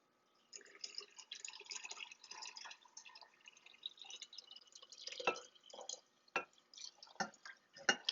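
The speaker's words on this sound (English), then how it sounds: "And now I'm going to pour my tea in," Sweetened tea pours into a jar in uneven splashes and gurgles, with sharper drips and plops toward the end, close and fairly quiet.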